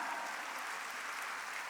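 Church congregation clapping together during a worship service, a dense, steady wash of applause from many hands that holds at an even level for the whole short stretch, with no break or talk.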